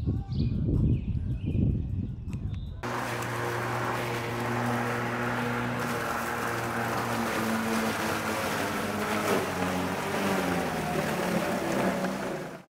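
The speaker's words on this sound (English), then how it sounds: "this is a good test for the mower to see how well it does with long, thick grass" A gas lawn mower cuts through long, thick grass, starting abruptly after a brief louder rustle, then holding a steady close engine drone with shifting pitch as it labours.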